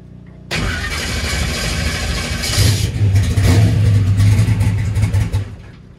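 A boosted small-block Chevy engine cold-starts abruptly after a brief moment of quiet, catches and settles into a rough, loud idle, then revs up in a strong surge before dropping back toward idle.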